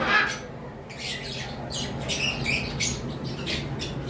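Pet birds squawk and chirp in repeated bursts, a lively chattering flock close by with no talking.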